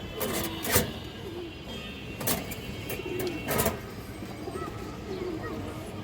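Pigeons at a farm selling colored, racing and high-flyer pigeons, giving soft low coos beneath louder fluttering bursts and someone talking.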